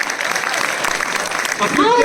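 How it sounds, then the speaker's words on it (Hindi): Applause from a crowd at an event on stage at Bharat Mandapam, a steady wash of clapping that swells slightly toward the end, with a voice speaking over it. "जोरदार तालियां"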